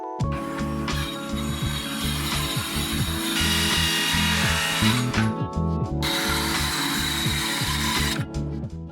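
A Black+Decker Multi EVO power tool in circular saw mode cutting wood and board: a loud, continuous whining motor with rattling, grinding saw noise that dips briefly once before running on steadily.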